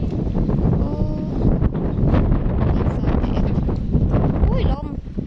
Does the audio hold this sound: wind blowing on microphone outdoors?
yes